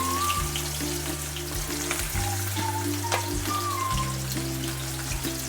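Onions fry in hot oil for an okra gravy, giving a steady close crackling sizzle with a low hum running underneath.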